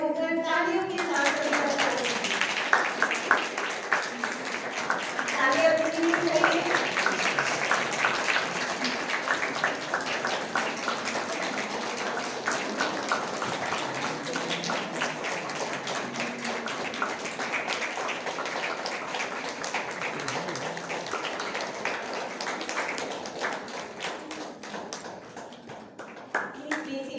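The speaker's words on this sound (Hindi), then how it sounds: "आप सभी से आग्रह है कि खड़े होकर तालियों के साथ" Hall audience applauding to welcome the chief guest and principal at a Women's Day celebration, a steady wash of clapping lasting throughout with some voices mixed in.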